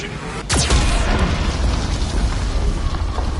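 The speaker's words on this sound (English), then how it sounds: "Warning, Geth cannon is locking on our location." Geth cannon fire in the video game Mass Effect 2: a sharp descending whoosh streaks in and erupts into a loud, booming rumble that keeps churning low and heavy for several seconds.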